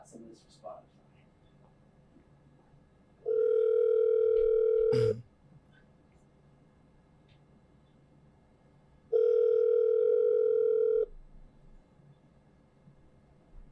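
A steady telephone dial tone sounds twice, each lasting about two seconds, with quiet background and a sharp click between them.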